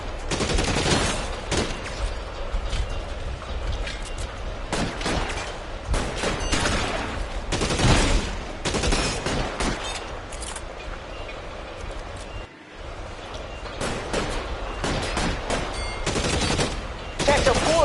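Sustained bursts of gunfire in the crime game L.A. Noire, with repeated loud volleys and rapid automatic fire running almost continuously through the shootout, dropping out for one brief moment near the end.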